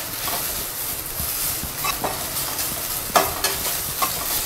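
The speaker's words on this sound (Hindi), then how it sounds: "भिंडी को अच्छे से फ्राई कर लेंगे हम" Okra frying in oil for a crispy masala bhindi fry, a steady close hiss of sizzling with occasional scrapes and taps of a spatula stirring the pan, no voices.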